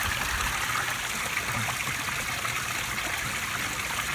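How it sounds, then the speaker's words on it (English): Water from a koi pond waterfall spills steadily into a stream, a constant close trickling and splashing that holds even across the whole stretch with no voices. "So, the water's flowing good though. The waterfall needs tweaked"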